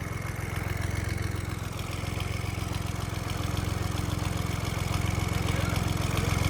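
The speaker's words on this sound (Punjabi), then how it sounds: "ਵਾਹਿਗੁਰੂ ਬਾਬਾ ਜੀ ਦਾ ਨਾਮ ਲੈ ਕੇ ਟਰੈਕਟਰ ਆਪਾਂ ਤੋਰਤਾ" A John Deere tractor prepared for a trolley competition runs with a steady, close diesel thrum, a continuous low rumble that builds slightly in loudness toward the end.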